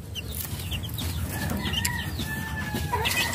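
A mother hen clucks near her brood of chicks on a small farm, with close, repeated low clucks and faint high peeps running steadily for a few seconds.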